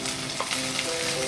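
Ginger paste sizzles and spits in a hot pan while prawns are being cooked, a steady close frying crackle with a few stirring scrapes and no talking.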